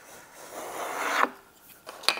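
A Japanese edge trimmer shaves a 45 degree chamfer onto a 1 millimetre edge, giving a steady close rasping scrape that swells over about a second, then two short sharp scraping strokes follow.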